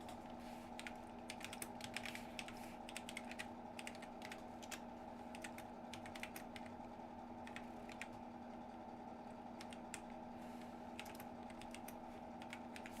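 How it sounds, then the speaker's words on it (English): Rapid clicking keystrokes on a computer keyboard come in quick bursts, close but quiet, over a steady electrical hum. "My typing skills are showing."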